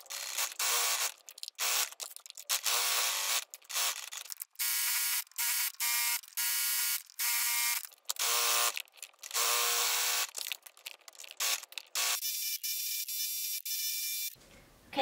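A sewing machine runs in repeated bursts as it stitches a fleece pajama pants seam from waist to pocket and down the side, each run of close, steady whirring broken by short pauses, with no talking.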